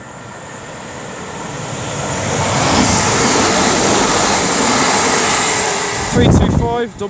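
A Royal Mail Class 325 electric multiple unit, 325-001, approaches and passes on the West Coast Main Line at Rugeley Trent Valley, a whooshing rush that swells steadily, holds loud, then breaks into rattling clatter as the last cars go by.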